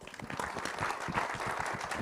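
Applause from an audience at an event honouring an actor's role, a steady, moderately faint patter of clapping hands sustained throughout without a distinct break.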